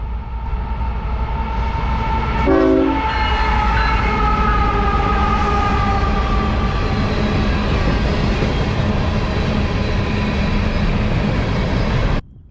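A CSX freight train rolls past nearby with a steady, loud rumble throughout, and its horn sounds in a short burst of stacked tones around the midpoint of the first few seconds before the roar cuts off abruptly.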